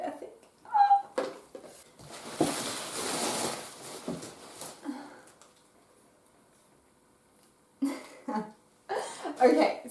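A hungry house cat meows several times indoors, short mid-pitched calls spread through the stretch with quiet gaps between, close by, while rustling handling noise and a person's talk also run through it.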